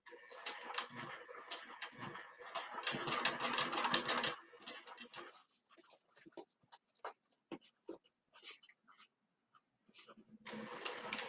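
A sewing machine topstitches a snap pouch in fast rattling runs, the longest early on, then gives way to scattered clicks and handling noises before a final short burst of stitching.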